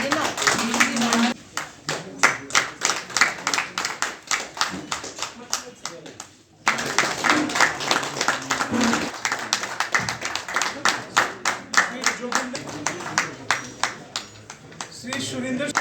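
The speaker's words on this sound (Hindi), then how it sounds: "उधर के ग्रुप तालियां बजाइए" A group at a political gathering in India claps hands in uneven bursts, the rhythm broken by a brief pause before resuming, with a voice talking over the clapping throughout.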